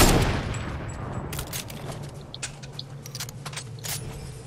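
Bursts of gunfire from a Fortnite-style shooter aimed at a player's build, several sharp cracks spread across the moment over a steady low game-ambience hum, no talking.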